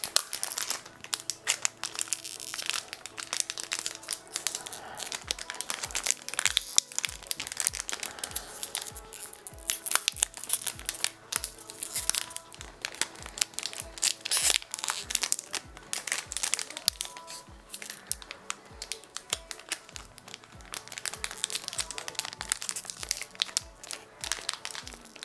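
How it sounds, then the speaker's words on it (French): Foil wrappers of Tekken Card Tournament booster packs crinkle and crumple up close as they are torn open, a steady run of rustling and crackling with no talking. "Allez, on déballe un autre booster."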